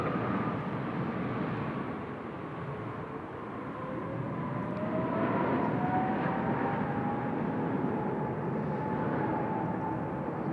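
A Korean Air freighter jet rolls for takeoff on runway 16 left at Seoul Incheon Airport, a far broad roar with a rising, shifting whine building steadily and then holding, alone with no talk.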